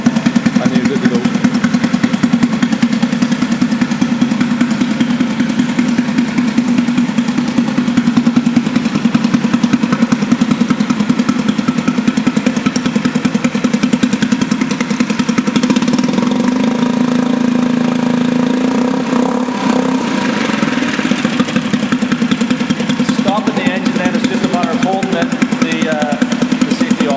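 A Mercury 2.5 HP outboard motor idles steadily on half choke while warming up, a constant close drone with a buzzing hum running the whole time and slight shifts near the end, with some talk over it.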